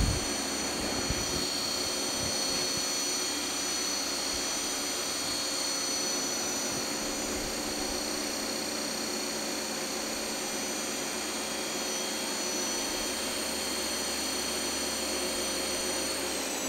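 A Nakamura Slant 1 lathe spindle runs forward at about 4,000 RPM, producing a steady high-pitched whine with a sustained whooshing drone, constant and close throughout.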